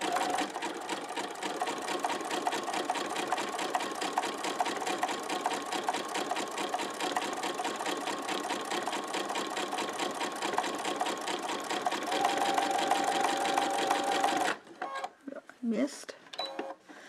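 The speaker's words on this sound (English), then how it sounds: "I'm actually going to sew this till it's about maybe 6 inches or so in diameter" A sewing machine stitches a rope bowl in a wide zigzag, running as a busy, rapid mechanical chatter for most of the clip before stopping abruptly, after which a person talks briefly.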